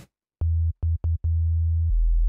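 A low, steady sine tone from the Serum synthesizer that stutters on and off a few times, then holds, dropping to an even deeper hum near the end.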